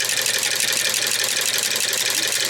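The engine of a 1908 Matheson automobile with make-and-break ignition runs steadily at close range, a loud, even mechanical clatter and rumble with no voices.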